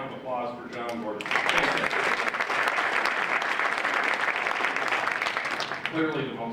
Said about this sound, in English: a great round of applause for John Gordon